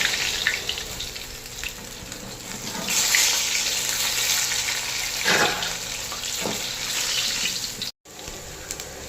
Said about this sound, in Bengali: এই যে চিকেনগুলো ভেজে নিচ্ছি